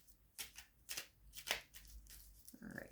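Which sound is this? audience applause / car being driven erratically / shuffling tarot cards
shuffling tarot cards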